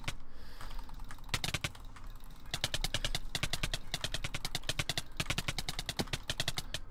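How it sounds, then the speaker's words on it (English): Fast jitter clicking on a computer mouse during a PvP combo-fighting game, a dense, relentless stream of sharp clicks for several seconds, close and loud, with no voice over it. "I'm gonna try jitter clicking, just so I don't get banned"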